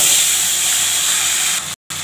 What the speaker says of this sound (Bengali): আদা লঙ্কা বাটাটা দিয়ে দিচ্ছি।